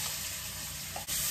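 Garlic and green chili paste, ground in a mixer, sizzles steadily in hot oil with cumin and a bay leaf, a close, even frying hiss that briefly dips before surging louder.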